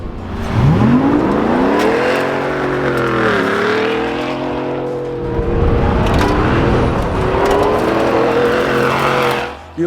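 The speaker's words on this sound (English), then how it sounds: "underneath, we got a nice Borla dual exhaust system that runs out the back" A 2024 Shelby F-150 truck engine revs loudly and steadily through a Borla dual exhaust, its pitch rising and falling in long sweeps with a deep, continuous roar.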